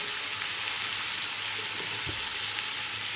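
Two tablespoons of garlic ginger paste fry in hot oil with browned onions, a steady, dense sizzle with a faint stir or clink near the middle, going on alone without talk.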